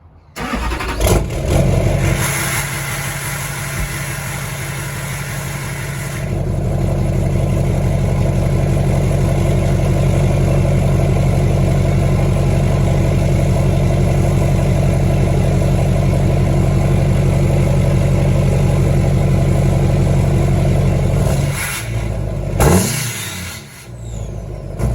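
An LBZ Duramax diesel pickup fitted with a 5-inch Magnaflow exhaust cranks briefly, fires up and settles into a loud, steady low diesel idle close by, then the engine note cuts off near the end.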